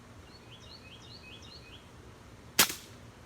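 Single sharp crack of an Air Arms S510 or Daystate Wolverine R air rifle, fired once near the end, with a short ring-off against quiet outdoor background and faint birdsong.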